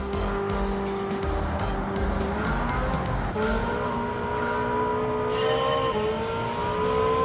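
A 2019 Ferrari F8 Tributo races in Gran Turismo 7, its engine droning at a steady high rev with shifting pitch and some tire squeal, loud and continuous throughout.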